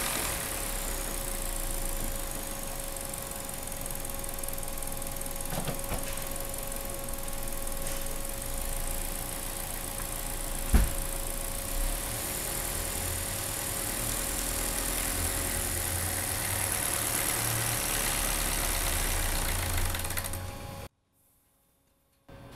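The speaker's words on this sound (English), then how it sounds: "see how much oil pressure we have at idle" A 2014 Kia Forte engine idles steadily, a continuous mid-pitched hum with an occasional knock, running close and alone with no voices, on a car with a stalling problem and low oil pressure; the sound cuts out just before the end.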